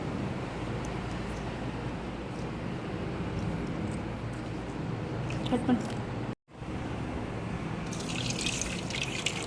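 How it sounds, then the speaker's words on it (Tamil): Water splashes and trickles as tamarind is squeezed and dissolved in it by hand in a kitchen, with steady liquid sloshing under a person talking throughout. "புளியை கரைச்சி வந்து அதை தனியாக வடிகட்டி தனியாக எடுத்து வச்சுக்கலாம்."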